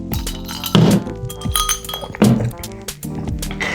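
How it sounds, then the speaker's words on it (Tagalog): Glasses clink together in a toast during a late-night conversation, with several bright, ringing taps spread over a few seconds and a low background hum. "Cheers, Emma."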